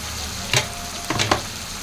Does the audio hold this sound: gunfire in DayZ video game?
no